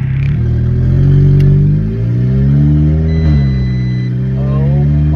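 An Audi 8Y S3 with its muffler removed revs close and loud, its raspy exhaust rising and falling in steady pulls with a brief lift between them.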